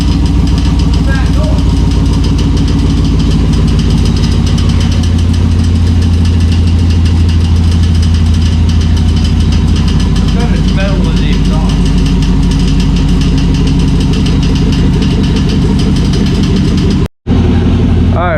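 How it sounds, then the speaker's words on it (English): LS V8 swapped into a Ford Bronco II crawler, idling on its first cold start with new exhaust: a steady, loud, deep rumble holding throughout with slight rhythmic pulsing, ending in a brief cut near the end. "First cold start. First time with the exhaust."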